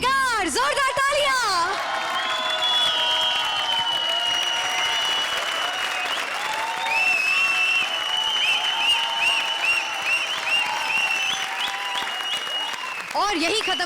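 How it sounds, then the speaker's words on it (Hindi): Loud studio audience applause fills a Comedy Circus 2020 comedy show stage, sustained and dense for about fourteen seconds, with music and swooshing effects layered over it. "जोरदार तालियां।"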